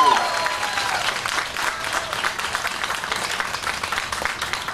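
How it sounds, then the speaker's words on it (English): An audience applauds a Detroit School of Arts student performer at a school district enrollment launch event, with steady, dense clapping holding loud and even for the whole stretch and a little crowd murmur underneath. "Can we give another round of applause for Pride"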